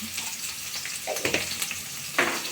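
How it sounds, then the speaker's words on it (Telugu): Cumin seeds fry in a pan of oil for a South Indian drumstick, tomato and egg curry. A steady close sizzle carries a few louder crackling bursts partway through and near the end. "ఇందులోనే వేసేస్తే వేగిద్దండి జీలకర్ర కొంచెం జీలకర్ర వేగిపోయి"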